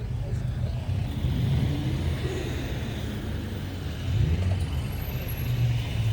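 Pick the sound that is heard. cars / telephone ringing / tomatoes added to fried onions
cars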